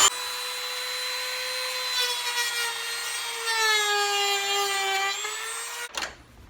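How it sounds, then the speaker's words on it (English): A Dremel rotary tool fitted with a small cut-off wheel grinds through a block of hard plastic, a steady high whine with shifting overtones that runs for about six seconds, then stops abruptly. "I'm just using a Dremel, got a little cut off wheel on it."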